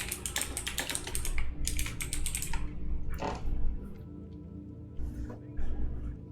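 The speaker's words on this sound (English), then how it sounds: "I was typing" Fast typing on a computer keyboard, close bursts of crisp key clicks with short pauses between runs, during a live online tabletop role-playing game session.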